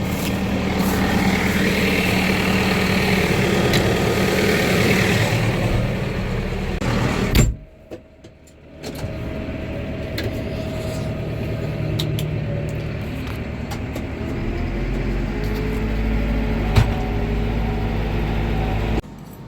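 A tractor engine in a farming game hauling two wagons slowly, a steady loud drone that cuts out abruptly for about a second, then resumes at a lower, even hum.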